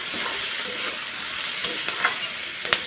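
Vegetables for pasta being stirred and fried in a pan after salt goes in, an even close sizzle broken by several quick clinks and scrapes of a spatula, with no voices.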